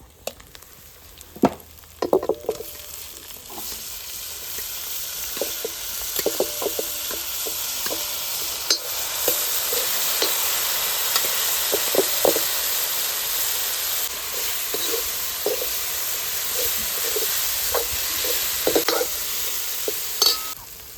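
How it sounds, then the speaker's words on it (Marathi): Cooked black urad dal poured into a hot kadai, starting with a few knocks and clatters, then a loud continuous sizzle and hiss with occasional stirring scrapes; no voices. "आपण आता डाळ कढईमध्ये टाकून घेऊ"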